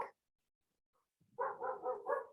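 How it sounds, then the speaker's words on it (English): Dogs running and playing on a beach give a quick run of four or five yips and barks close by after a brief yelp and a short silence, fairly faint overall. "as your dogs just run and play and frolic."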